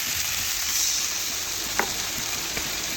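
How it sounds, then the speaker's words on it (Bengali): Catla fish masala with mustard and poppy paste sizzles and fries steadily in a pan, with a couple of faint stirring scrapes over the continuous hiss. "ভালোভাবে এটাও নাড়াচাড়া করে একটু কষিয়ে নিচ্ছি"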